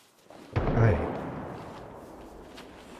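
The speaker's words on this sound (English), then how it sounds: "Oh, gunshot." A single distant gunshot in the video game Project Zomboid booms once with a heavy low thump and a long fading rumble.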